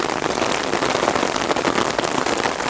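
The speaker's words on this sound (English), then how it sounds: "the rain here is so intense" Heavy rain pelting an umbrella outdoors in Rome, a dense, steady, loud patter close overhead with no pauses.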